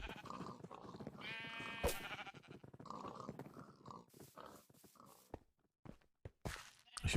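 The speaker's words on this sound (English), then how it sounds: "we have a couple of sheeps here that we can dye" Sheep bleat in a Minecraft Fabric modpack game, several short, nasal, wavering cries spaced across the clip, with clicks and scattered game sounds in between.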